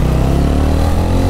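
A TVS Ronin motorcycle engine builds slowly after the throttle opens, a steady low, close rumble with faint mechanical clatter that never surges sharply, heard alone without talk.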